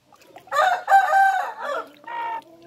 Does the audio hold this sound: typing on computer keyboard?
no